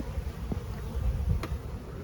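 Bees buzzing around a hive during a swarm inspection, a steady low droning hum close by with a few brief individual buzzes passing.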